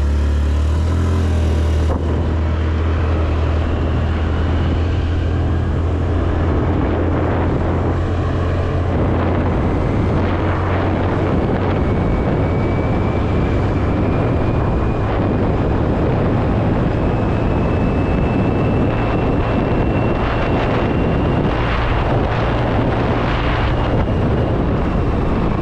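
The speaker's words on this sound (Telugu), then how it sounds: "సో క్విక్గా స్కూటీ అయితే స్టార్ట్ చేసేద్దాం" A Honda Activa 3G scooter is ridden in Vizag, its small engine droning steadily with wind rush and road noise throughout, rising slightly in pitch as it gathers speed.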